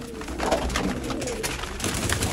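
Pigeons and quail kept together in a Sialkot pigeon loft coo continuously at close range, several birds overlapping in a steady murmuring chorus with no talk.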